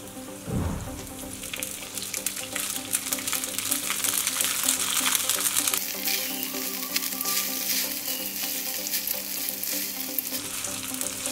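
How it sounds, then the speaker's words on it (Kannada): Vermicelli frying in a pan for vermicelli upma (shavige uppitu), with salt and sugar added, over a low flame: a steady, dense sizzle with crackling, and a brief stirring scrape near the start. "ಈಗ ಶಾವಿಗೆ ಹಾಕ್ಕೊಂಡಿರೋಣ."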